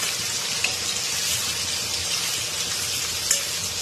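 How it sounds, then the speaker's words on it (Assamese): Paneer frying in a pan gives a steady, close, continuous sizzle and crackle that runs unbroken throughout with no voices. "পনীৰখিনি লাহে লাহে এনেদৰে ফ্ৰাই কৰি ল'ম।"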